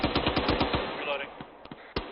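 Gunshots during squad training, a quick burst of about eight rapid shots followed by a few scattered single reports, fairly faint and thin-sounding.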